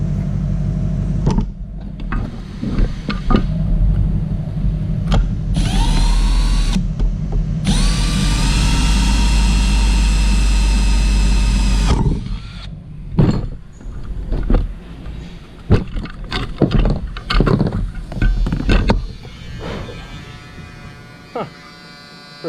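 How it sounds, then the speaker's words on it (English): A small electric drill whines in a short burst, then a sustained high-pitched run, followed by clicks and clatter; no talking. "So I'm gonna drill the small hole"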